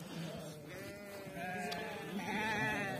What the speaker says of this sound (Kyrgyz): Мына ургач козулар быйылкы туугандар.